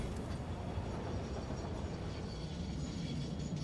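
A train rolling along in the factory-building game Satisfactory, a steady low rumble with faint rail clatter throughout, constant and fairly quiet with no talking.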